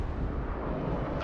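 Continuous heavy rumbling blasts from bombs dropped by an F-18 Hornet bombing run in the Broken Arrow war game, dense and loud throughout with no pauses.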